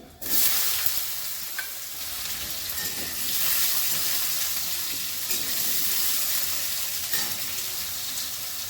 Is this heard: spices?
yes